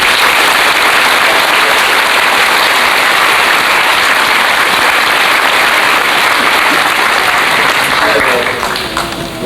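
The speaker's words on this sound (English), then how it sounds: "Let's have a round of applause for all of you." A large audience at a 1996 high school senior assembly breaks into sustained, thick applause, a loud unbroken wash of clapping that carries on for several seconds and thins slightly at the end.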